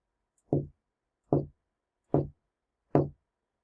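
Four hollow knocks on a door, evenly spaced about a second apart, close and clear against silence, used as a sound effect in a children's read-aloud story.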